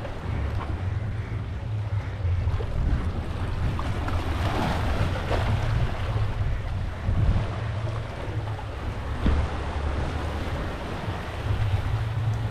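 Indian Ocean surf and wind on the shore at Mombasa, a steady wash of waves with gusty wind buffeting the microphone, loud and continuous with no talking.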